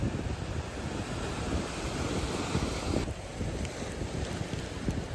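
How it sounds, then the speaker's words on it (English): Heavy sea surging onto the Cornish coast near St Buryan, with a continuous broadband roar of breaking waves mixed with strong wind buffeting the microphone, steady and loud throughout with a slight swell in the middle. "See that big wave look coming in."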